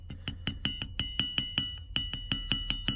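Repeated bright clinks as a digging tool strikes a glass dispensary shard buried in dirt at a downtown Newberry, SC dig, a fast uneven series of close sharp taps with soft scraping between them.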